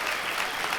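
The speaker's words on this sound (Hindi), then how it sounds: "प्लीज आप सब मेरे बाबा के लिए तालियां बजाएं" A gathered crowd on stage applauds a daughter's father in a short, dense burst of clapping, steady and fairly full, with no voices heard over it.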